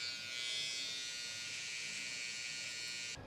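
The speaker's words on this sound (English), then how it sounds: "we've got the TPOB X, it's the foil shaver" A TPOB X electric foil shaver buzzes steadily and close up for about three seconds during a barber's burst fade, then cuts off abruptly at the end.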